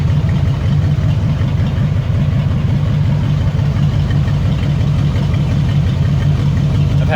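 A Ford F-150 truck engine idles steadily and close by, a continuous low rumble with no talking over it.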